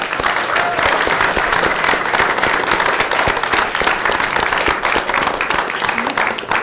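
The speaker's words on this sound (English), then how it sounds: "just another round of applause for everybody" Loud, sustained applause from an audience at an afternoon competition round, thick continuous clapping filling the whole stretch with no pauses.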